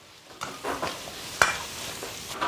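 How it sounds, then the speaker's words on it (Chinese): Turtle pieces stir-fried in a wok with hotpot base, crackling sizzle broken by several sharp scraping strokes of the spatula against the metal. "继续的给它炒匀"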